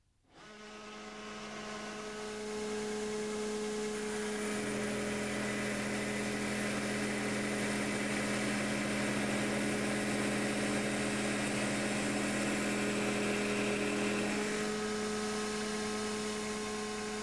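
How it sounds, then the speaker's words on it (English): A Scantool 100/150RS pipe notcher runs with its grinding roller cutting into a pipe, a loud, steady, tonal motor hum with a harsh grinding band that holds for about ten seconds before easing back. "Feed the pipe towards the grinding roller."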